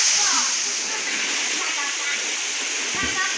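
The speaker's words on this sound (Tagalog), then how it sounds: "Yan guys ang sinasabi namin falls." A waterfall at a nature spot roars in a steady, loud, broadband rush that fills the whole scene without a break, with voices faintly mixed in.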